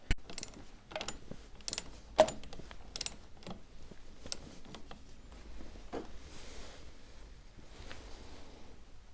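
A torque wrench tightening a nut to 180 Nm on a Ducati Monster 900 motorcycle, giving scattered, irregular ratcheting clicks and metallic taps up close in a quiet workshop, with no talking.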